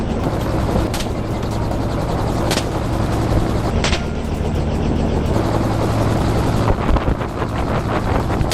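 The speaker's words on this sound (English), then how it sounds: "As the helicopter blades finally came to a stop" Helicopter blades thump steadily with a loud, continuous rotor roar and rushing wind, punctuated by a few sharp bursts.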